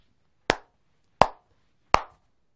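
Three slow, evenly spaced single hand claps in a quiet classroom, sharp and fairly close, each separated by about three-quarters of a second of silence.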